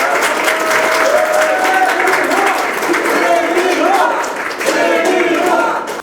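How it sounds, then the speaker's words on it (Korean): An indoor audience at a Sejong mayoral candidate's youth campaign launch event gives loud, sustained applause lasting several seconds to welcome a speaker, with dense overlapping clapping and a little crowd noise underneath. "여러분 힘찬 박수로 맞이해 주시기 바랍니다"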